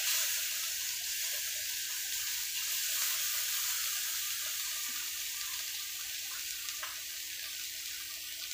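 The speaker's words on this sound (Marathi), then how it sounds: "या तेलामध्ये आपला दळलेला मसाला हा टाकायचा आहे" Ground masala sizzling in hot oil for a spicy egg curry, a steady, soft hiss running throughout with faint crackles and no voices.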